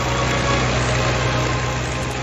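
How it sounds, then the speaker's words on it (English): The Rolls-Royce Merlin 20 engines of an Avro Lancaster bomber run together in a dense, steady droning roar, loud and close, constant and without speech. "the Lancaster's key attribute, the 4 legendary Merlin engines mounted on its wings"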